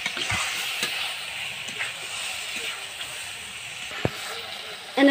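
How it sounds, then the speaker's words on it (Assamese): Pieces of fish sizzle in oil in a cooking pan, a constant close hissing fry broken by a few sharp clicks of utensils. "এতিয়া মই মাছখিনি ভালদৰে ভাজি ল'ম।"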